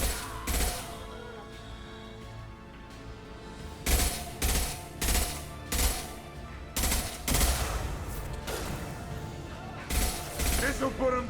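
Rifle fire in the Mass Effect 2 video game, Legendary Edition: repeated loud bursts of shots in clusters, with explosive impacts and combat noise, while a player talks over the action.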